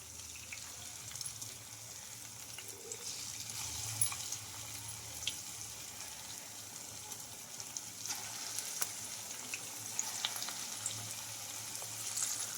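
Small drops of sago punugulu batter deep-fry in hot oil, making a faint, steady sizzle with scattered tiny pops and no talking.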